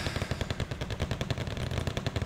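Sustained machine-gun fire in the real-time strategy game Wargame Red Dragon, a fast unbroken rhythm of loud, close bursts with no talking.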